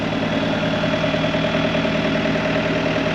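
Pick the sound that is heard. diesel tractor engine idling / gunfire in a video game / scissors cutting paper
diesel tractor engine idling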